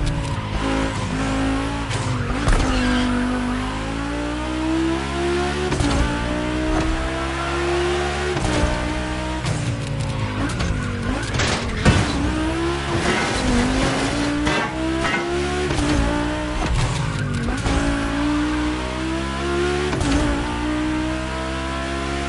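Volkswagen cars racing on a track in a PS4 driving game, engines revving and shifting repeatedly with bursts of tire squeal and skidding, loud and close throughout, with no talk.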